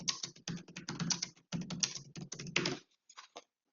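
Rapid typing on a computer keyboard, with bursts of clicking keystrokes in an irregular rhythm, close and clear, with short pauses, trailing off into a few scattered taps at the end.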